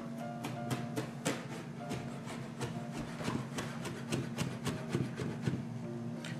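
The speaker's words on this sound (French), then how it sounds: "Donc on va hacher un peu de persil." A knife chops parsley on a board in quick, steady, evenly spaced taps that run continuously at close range over a low background hum.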